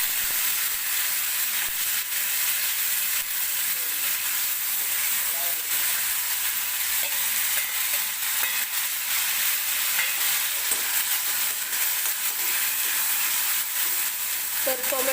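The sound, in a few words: tomato and curry leaves frying in oil in a pan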